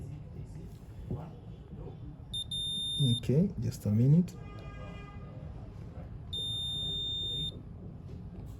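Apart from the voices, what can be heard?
multimeter continuity test beeping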